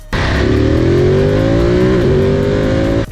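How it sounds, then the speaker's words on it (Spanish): A Ducati Monster 937 motorcycle revs hard under acceleration, its engine note climbing steadily and then stepping with a quick gear shift around the midpoint before rising again, loud and close, ending abruptly. "sube mucho las revoluciones y simplemente debes mover la palanca hacia arriba y ella hace el cambio"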